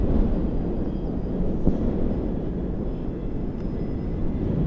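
A Dynam P-61 Black Widow RC warbird, a 1500mm twin-engine electric model on 4S power, flies on approach without stabilization, heard as a steady low drone and rumble with wind buffeting the microphone and no talking.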